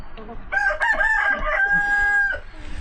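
A backyard hen flock, one hen bald on top of her head, gives a loud, close rooster crow lasting about two seconds, with short clucks around it.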